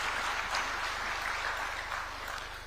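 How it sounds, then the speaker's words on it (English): Audience applause at a mining investment conference and expo in Nairobi, a steady wash of many hands clapping at a distance that holds evenly and slowly fades slightly. "Kenya deserves a round of applause there."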